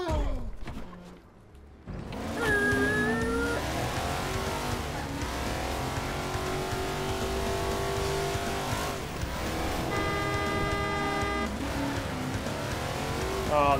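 A car engine in the Xbox 360 video game Crackdown revs and accelerates continuously, pitch rising and falling through gear changes, with occasional tire squeal and brief talk.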